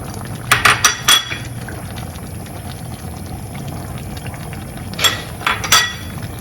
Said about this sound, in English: We'll go ahead and add all our beans.